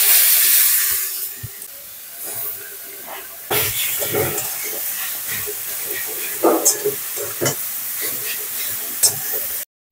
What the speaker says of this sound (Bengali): এই কড়াই আবার ঘি দিয়ে দিচ্ছি। গ্রেট করা গাজরগুলো ভেজে নেব।